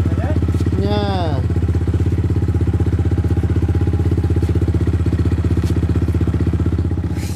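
Motorcycle engine running loud and close with a steady rapid firing pulse and a brief rising rev near the start, a voice briefly heard over it.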